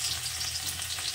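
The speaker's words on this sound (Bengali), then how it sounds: "তেলটা গরম হয়ে গেছে, আমি এখানে ফোড়নে দিলাম কটা রাঁধুনি, রসুন থেকে" Garlic and radhuni seeds tempering in hot oil in a pan make a steady, close, dense sizzle with no break, and no one speaks.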